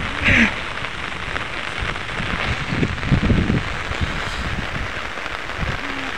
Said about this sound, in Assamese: গোটেই দিনটো মানে গোটেই বৰষুণ দি আছে